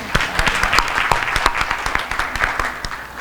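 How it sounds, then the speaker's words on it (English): Applause at a North Carolina school accountability event, a modest crowd clapping with distinct individual claps standing out from a steady patter over about three seconds. "So let's give her one more round of applause"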